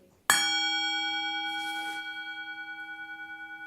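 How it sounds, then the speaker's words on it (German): A gong struck once during a Zen meditation meeting in Vienna, with a sharp attack and a long, steady ringing tone that slowly fades and shimmers, heard alone in a quiet room. "I strike the gong and you will see it will be reflected in that mirror."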